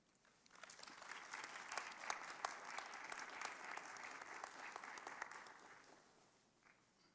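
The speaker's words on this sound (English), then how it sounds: "Let's please give Aladdin one more round of applause" A community faith gathering in Huntsville breaks into audience applause, a moderately distant, even roar of many hands that holds steady for several seconds, then tapers away toward the end.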